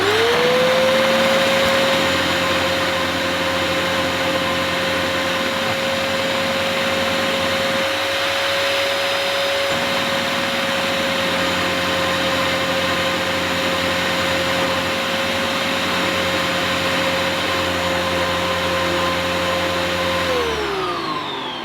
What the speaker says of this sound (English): I think I'll try this cleaner on deep pile on my living room carpet